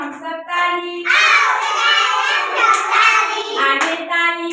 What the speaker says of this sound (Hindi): आगे ताली पीछे ताली